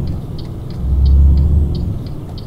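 A truck engine in the Euro Truck Simulator 2 driving game gives a steady low rumble that swells louder for about a second as it accelerates, then settles back to a constant drone.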